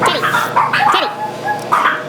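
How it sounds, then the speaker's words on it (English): Several dogs bark and yip in quick, excited bursts close by, with some whining mixed in. "the dogs have been going insane"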